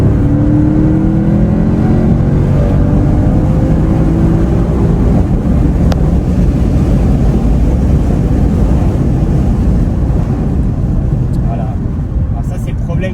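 A Mercedes C63 AMG W204 V8 roars loudly and continuously up close, heard with windows open, its pitch climbing as it revs early on, then settling into a steady driving drone.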